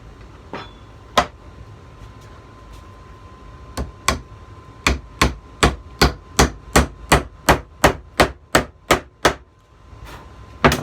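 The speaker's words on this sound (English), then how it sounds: "Finish nailing this in." Hammer blows driving nails into a rustic wooden wine rack: a few scattered strikes, then a steady run of about fourteen sharp, evenly spaced bangs, close and loud, with no talking.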